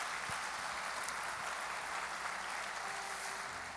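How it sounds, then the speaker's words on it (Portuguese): A church congregation applauds during a service, a continuous wash of many hands clapping at moderate distance, steady without break for a few seconds. "aplauda Jesus bem forte"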